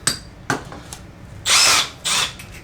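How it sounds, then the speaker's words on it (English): A power drill with a 5/32 bit whirs in two short bursts after a few light knocks and clicks, close and fairly loud. "a 5/32 drill bit to drill the hole"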